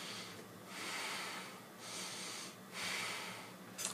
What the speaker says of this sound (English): That's breathing from your stomach